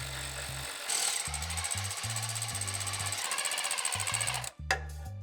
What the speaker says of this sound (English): Now we're going to use our 16mm socket to hit all of these bolts.